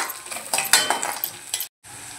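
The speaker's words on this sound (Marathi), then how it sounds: "आपण त्यामध्ये हिरव्या मिरचीचे तुकडे घालून घेऊया आणि 1 मिनिट परतवून घेऊया।" Onion and green chilli pieces being sautéed in oil, with a soft steady sizzle broken by close scraping and stirring clicks from a spoon in the pan, then a sudden brief cut to silence.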